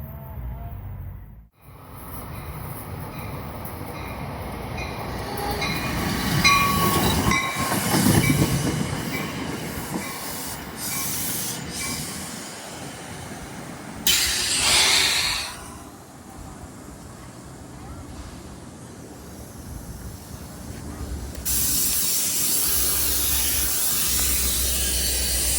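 A train passes through Clifton station, a long loud rumble of rolling wagons with clattering wheels and squeals, swelling and easing as cars go by, heard close with a brief burst of spray-like hiss.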